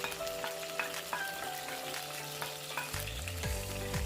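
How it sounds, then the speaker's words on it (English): Grated onions sautéing in hot oil with cloves and green cardamom, a continuous bright sizzle with repeated spoon scrapes and stirring knocks against the pan. "saute this on a medium flame until it turns pink and the oil separates from the onion"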